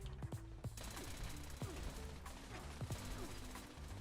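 Turrets firing in the Fallout 76 video game: sharp, rapid bursts of gunfire with a few heavier thuds, close and loud, repeating in irregular volleys.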